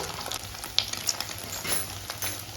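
Eggs frying in a pan for a pepper egg dish, a steady close sizzle with crackling pops and light bursts throughout, no voices.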